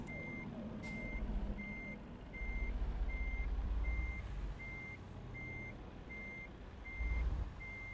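A truck in American Truck Simulator sounds its reversing alarm, an evenly spaced series of about ten beeps, over a low engine rumble that swells and fades as the truck pulls out.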